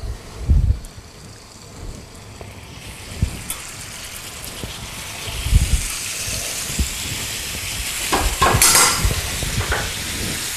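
Bacon-wrapped chicken breast fillets frying in a pan give off a steady sizzle and crackle, with occasional stirring or handling knocks and a louder burst of spattering near the end; no one speaks.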